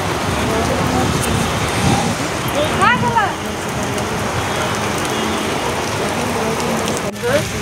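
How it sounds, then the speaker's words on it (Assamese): Heavy, nonstop rain pours steadily on a cold day, a dense close hiss that fills the whole stretch, with a few brief chirps rising over it. "আধা ননষ্টপ বৰষুণ দিছে"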